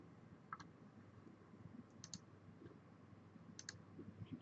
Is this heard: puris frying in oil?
no